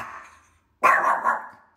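A dog gives a soft growl that fades out, then after a short pause lets out a loud, close bark that trails into a rough growling tail.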